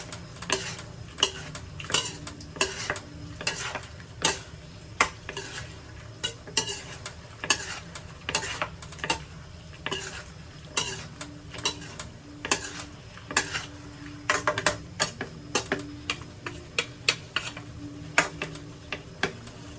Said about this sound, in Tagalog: Halu-haluin lang ulit.